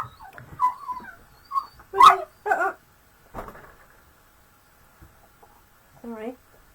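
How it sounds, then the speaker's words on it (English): Two dogs fighting over food make short yips, whimpers and growling bursts, fairly faint and scattered between a person's nearby talk. "Got two dogs fighting over food."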